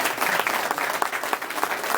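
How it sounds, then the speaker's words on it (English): A men's club audience gives a round of applause: brisk, even clapping from a room of people, moderately close and continuous for a couple of seconds. "Have a round of applause."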